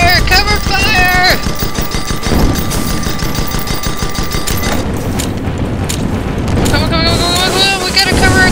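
Airship gunfire in the online game Guns of Icarus Online: dense, rapid bursts of shooting over a constant engine and wind roar, loud and close, with excited voices talking over much of it.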